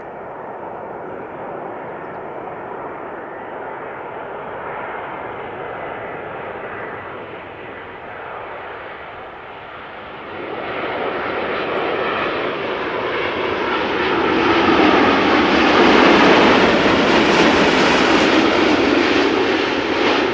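A Boeing 787-8 Dreamliner arriving at Amsterdam Schiphol Airport roars steadily for about twenty seconds, the engine noise swelling louder and brighter as the jet passes close, with no talk over it.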